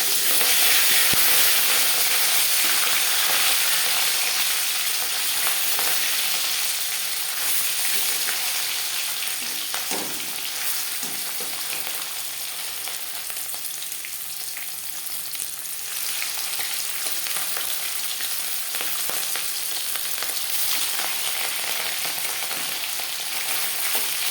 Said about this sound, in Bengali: 4 চামচ রিফাইন্ড অয়েল গরম করে নিয়েছি। এবার দিয়ে দেব ম্যারিনেট করে রাখা মাছ